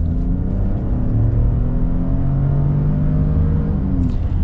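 A 2021 Ford Bronco Sport Big Bend with a 2-liter engine accelerates in sport mode, a loud, steady engine drone rising in pitch under continuous road rumble, heard from inside the cabin.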